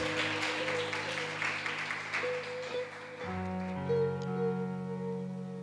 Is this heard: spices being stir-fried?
no